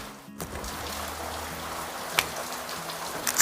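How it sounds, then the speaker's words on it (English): Steady rain patters down in a dense, even hiss, with a few sharper drops landing nearby and a low hum underneath. "It has been raining heavily"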